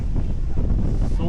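Strong, steady wind roaring into the microphone on a mountain road, a dense low rumble with constant buffeting and no break.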